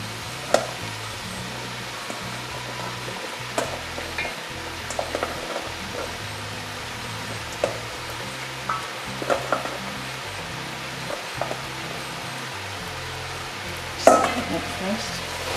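Peas being added and stirred into pork soft bone frying in a pot, a low sizzle throughout with scattered light clinks and scrapes of the utensil, one sharper clatter near the end.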